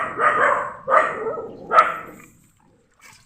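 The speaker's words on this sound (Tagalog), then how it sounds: "Ingay ang aso" A dog barks three times in quick succession, fairly loud and close, each bark a short harsh burst, then quiet.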